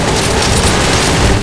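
A grenade blast in Counter-Strike: Source during a Zombie Escape round on a Skyrim Dwemer Ruins map, a loud, dense, sustained boom filling the whole short moment with broad rumbling noise.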